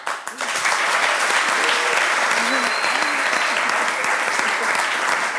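A studio audience in a television show breaks into sustained applause, loud and dense for several seconds, with a few voices faintly audible beneath the clapping.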